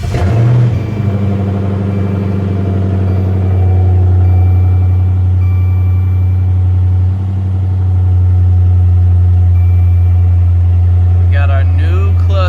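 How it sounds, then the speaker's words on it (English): A 2012 widebody Dodge Charger Pursuit engine cranks and catches, then settles into a loud, steady, close-up idle rumble that holds evenly to the end. "start the car"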